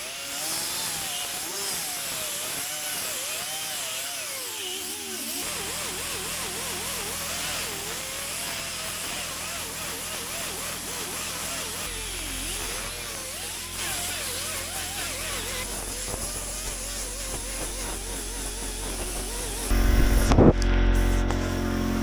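Power sanding of a dented car body panel in a home garage using 80 grit paper, a steady loud motorized whirr running continuously with a harsher burst near the end.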